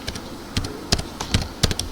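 Text typed on a computer keyboard, a series of sharp close key taps at an irregular pace, heard alone with no talk.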